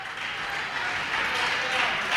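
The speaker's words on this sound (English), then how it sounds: "Saugus girls getting a round of applause for her hard effort on the floor" Applause and crowd noise for the Saugus girls' basketball team at a 1998 high school women's game against Winthrop, a steady broadband wash of clapping and murmur in a gym, fairly distant and continuous.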